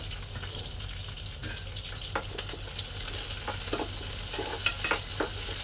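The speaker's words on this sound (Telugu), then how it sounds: "ఇంకొక స్పూన్ నూనె పోసి పచ్చిమిర్చి వేయించుకుందాం" Green chillies frying in a spoonful of oil in a pan, a steady close sizzle with occasional spatters and light stirring scrapes throughout, no talking.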